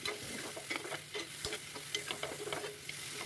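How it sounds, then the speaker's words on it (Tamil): Coriander, curry leaves and mint sautéing in a pan for tomato rice, a soft continuous sizzle with quick scraping stirs of a spatula, close and without talk. "கொத்தமல்லி கருவேப்பிலை புதினா போட்டு ஒரு வதக்கு வதக்கிட்டு"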